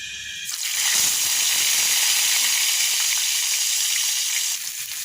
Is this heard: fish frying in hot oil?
yes